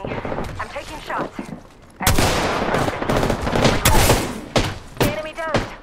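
Gunfire from the video game Apex Legends, with rapid bursts and single loud shots cracking in quick succession alongside impacts, while a voice speaks between the volleys.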